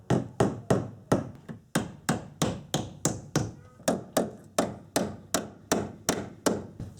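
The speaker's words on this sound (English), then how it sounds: "Now I'll just go around with some nails and start tacking it in place." Nails are hammered into aluminum siding on a vintage Shasta camper trailer, a close, sharp metallic tapping repeated about twenty times at a steady, brisk rhythm, each strike ringing briefly.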